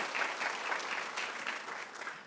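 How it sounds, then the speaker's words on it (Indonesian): Church congregation applauds in a steady, fairly faint wash of many hands clapping for a few seconds, with no voices over it. "Tepuk tangan dong buat semua hamba Tuhan."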